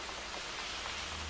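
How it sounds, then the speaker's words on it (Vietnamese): Heavy rain falls steadily, a dense continuous hiss of drops at an even level, close and unbroken, with no voices. "Em à, hôm nay trời mưa to quá."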